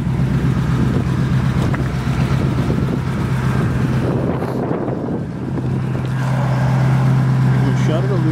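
A 1953 Mercury Custom's flathead V8 idling under the hood, a steady low rumbling hum with a faint brief dip midway, close to the microphone with wind buffeting over it.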